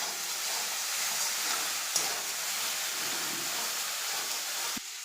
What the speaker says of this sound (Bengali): এভাবে নেড়ে নিচ্ছি ভালোভাবে